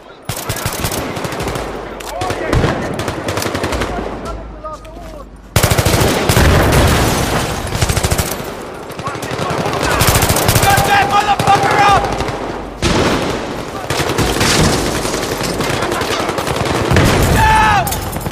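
Automatic rifle fire in the video game Battlefield 3, loud rapid bursts and single shots crackling over a busy battle soundscape across nearly twenty seconds, with some voice heard amid the shooting.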